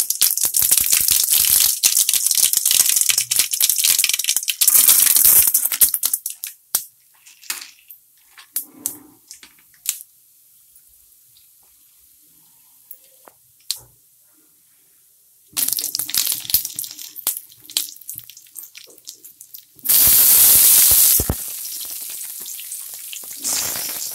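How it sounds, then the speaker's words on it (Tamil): Mustard seeds crackle and sputter in hot oil in a wok in loud, dense bursts. Quieter stretches come between the bursts, with scattered pops. "எண்ணெய் காஞ்சிச்சு, நம்ம வந்து இதில் கடுகு சேர்த்துக்கலாம்."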